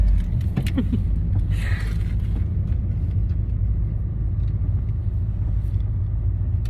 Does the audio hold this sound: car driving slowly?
yes